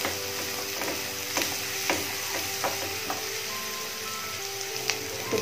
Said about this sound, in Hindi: इसको हम प्याज को 2 से 3 मिनट के लिए अच्छे से फ्राई कर लेते हैं।